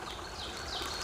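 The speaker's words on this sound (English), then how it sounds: "here's a little stream" A small mountain stream on the Appalachian Trail flows with a steady, close, unbroken rushing and trickling wash, with no voices over it.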